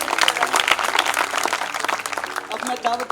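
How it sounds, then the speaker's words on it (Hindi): An open mic crowd claps for a performer, with irregular claps and cheers mixed among voices, moderately loud and uneven. "तो एक बार मजरुद्दीन के लिए जोरदार तालियां हो जाए।"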